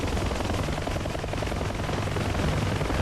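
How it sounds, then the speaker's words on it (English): A Huey helicopter flying in a VR video game, its rotor and engine giving a constant dense throbbing roar that stays loud and unbroken throughout. "today I am in the Huey, my favorite helicopter at the moment."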